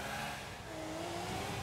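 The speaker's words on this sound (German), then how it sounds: "Jetzt müssen wir nur noch die Karre starten." A car in GTA 4 starts and revs, with a steady, loud engine drone that rises slightly in pitch and fills the whole moment with no voices.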